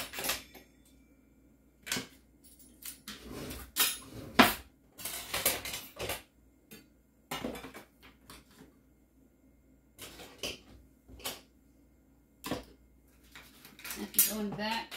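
Kitchen utensils and cutlery rattle and clatter in repeated bursts while a utensil drawer is cleaned out, with close metallic clinks separated by short quiet gaps.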